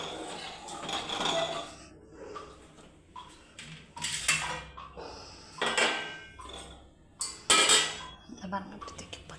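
Roasted idli podi tipped from a pan onto a plate, with metal clinks and scraping bursts of utensil against pan over steady background noise and some talk.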